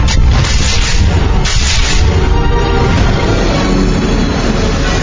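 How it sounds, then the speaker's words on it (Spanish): Cannon fire from hilltop fort batteries bombarding a colonial city, rendered as a dense, continuous roar of booming explosions and crashing impacts, loud and close with no pauses over five seconds. "ruido ensordecedor de las explosiones que impactan sobre las construcciones"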